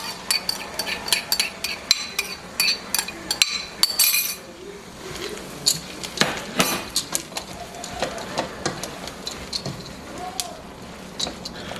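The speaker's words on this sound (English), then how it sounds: "We're gonna add the frozen corn." Frozen corn goes into a pot of taco soup, producing a series of close clinks, rattles and stirring knocks against the pot, some sharp taps early on, with a voice speaking briefly.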